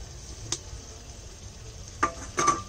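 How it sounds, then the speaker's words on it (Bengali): Chicken feet and potatoes frying in a pan for curry, a quiet continuous sizzle broken by a few sharp utensil clinks and scrapes against the pan, heard alone. "এবার পা গুলো দিয়ে দিলাম, সঙ্গে আলুটাও দিয়ে দেব"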